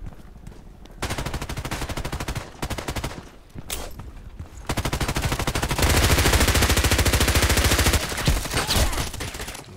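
Rapid bursts of MP5k submachine gun fire in the shooter game Contract Wars, loud and close, in long sustained volleys with brief pauses between them, with no talk over it.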